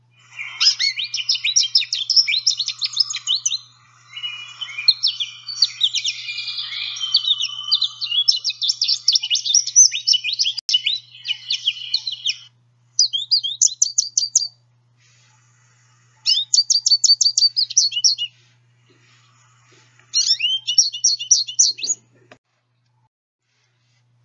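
An American goldfinch sings a long, rambling song that opens with its baby call, a dense stream of high twitters and warbles for about twelve seconds, followed by three shorter separate bursts of rapid chirps with quiet gaps between.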